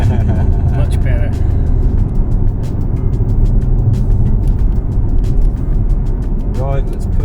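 Jaguar car driving while held in third gear: a loud, continuous engine drone with low rumble that stays steady throughout, without any shift breaks.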